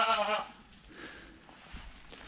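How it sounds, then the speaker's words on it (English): Inside a barn on a bitterly cold Saskatchewan farm at about -40°C, a goat gives one short, loud bleat up close, followed by faint rustling and shuffling. "I'm in the barn now, just feeding goats."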